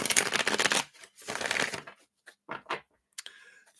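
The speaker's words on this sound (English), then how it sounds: "And to mix these up and give it another shuffle here." Tarot cards being shuffled by hand during a live reading: a few close, crisp riffling bursts of varying length, separated by short quiet gaps.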